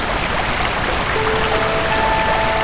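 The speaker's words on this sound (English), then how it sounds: "you have to travel through the waterfall" Steady roar of rushing water from a waterfall in the video game Endless Edge, a constant, loud, broadband wash of falling water with no talking over it.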